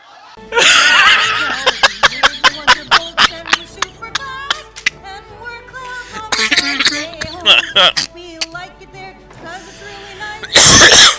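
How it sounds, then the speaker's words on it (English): Someone coughs repeatedly in a rough, sputtering fit, mixed with laughter and bits of talk, ending in a loud harsh burst. "It's made my coughing come back."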